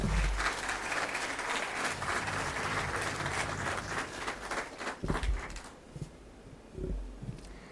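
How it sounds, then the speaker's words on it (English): An audience at an HR event applauds steadily to welcome the hosts on stage. The clapping is fairly dense and sustained, then thins to a few last claps and some thumps near the end. "Let us welcome them on the stage with a big round of applause."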